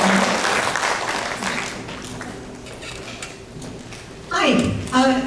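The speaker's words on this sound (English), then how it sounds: "please give Cindy a round of applause" Audience applause at a high school presentation, a broad wash of clapping that fades toward the middle, then a voice starts talking over the hall near the end.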